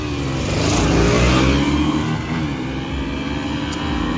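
A KTM Duke 125 and a Royal Enfield 350 accelerate side by side in a quarter-mile drag race, loud engine roar with rising and falling revving tones continuing throughout, heard close and without talk.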